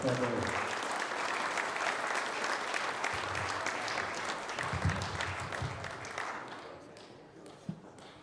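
Sustained applause from an audience at a boxing hall of fame awards night fills the room, dense and steady, with a voice speaking over it near the end before the clapping tapers.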